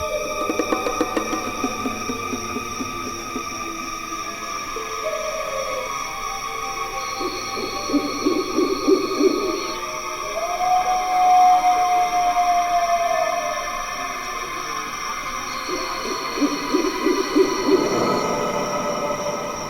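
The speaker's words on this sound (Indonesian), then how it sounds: "Seperti burung hantu, tapi suaranya rapat dan panjang." Long, eerie hooting calls rise and hold over a steady low drone, repeating at intervals with a sustained tonal quality, no voices present.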